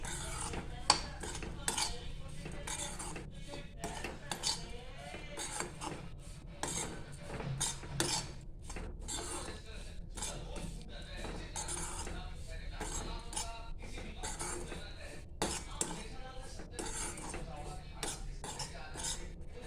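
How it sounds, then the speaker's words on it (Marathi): A utensil scrapes and clinks against a pan as dried fish is stirred and roasted over a medium gas flame, a faint, continuous rubbing and rasping with occasional soft speech. "आता आपण आता सुकट टाकलेली मिडियम गॅसवर आपण भाजून घेऊया"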